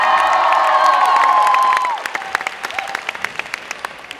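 A concert crowd applauds loudly for the drummer of a live rock band, a dense burst of clapping and cheering that drops away after about two seconds into sparse, scattered claps and clicks.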